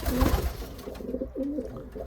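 Pigeons coo nearby in low, soft, repeated warbling calls, with faint background rustling.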